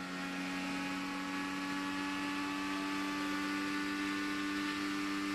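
An IndyCar engine screams at 187 miles an hour on the Indianapolis GP road course, holding a loud, steady high-pitched whine with strong harmonics throughout and no gaps.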